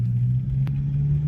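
Car engine hum and road rumble while driving on SRP Road between Talisay and Cebu City, a steady low drone with a brief faint higher blip midway, no clear rise in revs.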